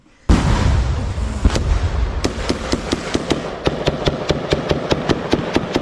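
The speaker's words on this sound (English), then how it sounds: "A rifle fires, the muzzle flash lighting the trees for an instant." Rifle gunfire in a close-combat firefight in a forest on the Ukraine frontline: a sharp opening report, then a rapid string of loud, evenly spaced shots close by.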